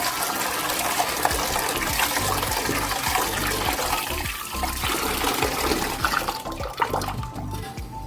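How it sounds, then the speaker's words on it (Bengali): Rice being rinsed under running water in a home kitchen, a steady loud gush and splash of flowing water that continues throughout with no talk. "চালগুলো আগে ধুয়ে নিই"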